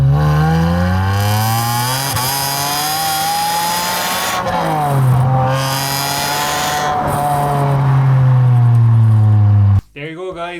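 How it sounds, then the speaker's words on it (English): A Ferrari 550 engine revs hard with a screaming, high-pitched exhaust, rising and falling through several loud sustained pulls close by, then cutting off abruptly near the end. "That's what a Ferrari 550 sounds like. That is some screamy, pitchy exhaust."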